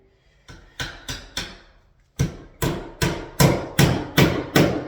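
A hammer drives nails into metal corner bead on drywall, giving about ten sharp, ringing blows in uneven clusters with short pauses between them, loud and close with no talking.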